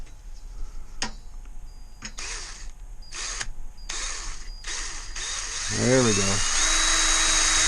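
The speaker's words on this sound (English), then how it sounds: "I'm going to drill a hole right here." A drill bores a screw hole for a strap in several short bursts separated by pauses, ending in a longer sustained run as the motor pitch climbs; a voice speaks briefly near the end.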